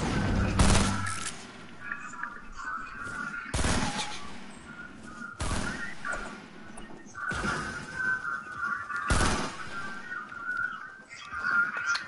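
Gunshots in a video game shootout, several loud, sharp bursts spaced a couple of seconds apart, with a whistling tone and ambient game noise between them.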